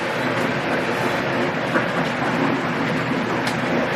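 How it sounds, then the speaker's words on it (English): Steady rumble of a train in motion travelling to Cardiff, UK, a continuous rolling drone with faint rattles, close and even throughout, no voices. "I made it on my train to Cardiff"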